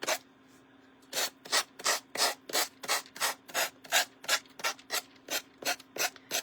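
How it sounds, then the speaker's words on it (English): Sandpaper scrubs over a small wooden bunny in rapid, even back-and-forth strokes, about a dozen close, dry rasps in a regular rhythm after a quiet opening second. A faint steady hum runs underneath. "It's hard sanding when I'm not sure how it's going here."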